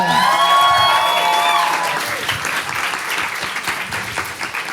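A crowd at a live event applauds and cheers loudly for Jacob, a burst of sustained clapping with whistles at the start that gradually thins out.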